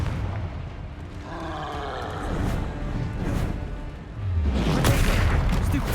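Confringo explosive spell blasts in the Hogwarts Legacy video game: crackling impacts and a swelling rumble that ends in a louder, close burst amid busy battle noise.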